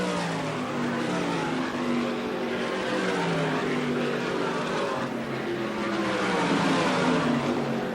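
Sprint cars race on a one-mile dirt track at the 1987 Syracuse Ground Round Nationals, engines screaming continuously and loudly with overlapping pitch sweeps as cars pass, no talk heard.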